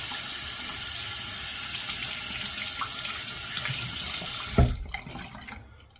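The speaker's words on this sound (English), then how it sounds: "let's get it rinsed off here" A running water tap rinses an aluminum razor with a nickel finish, a half-DE-blade single-edge design, making a steady close splashing stream at the sink that cuts off near the end with a clunk and a few trailing drips.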